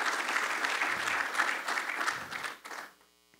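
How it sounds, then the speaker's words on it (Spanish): Audience applause welcoming an engineer onto an industrial-development panel: a dense, steady wash of clapping from a seated crowd that holds for about two and a half seconds, then quickly dies away. "Recibimos con un caluroso aplauso"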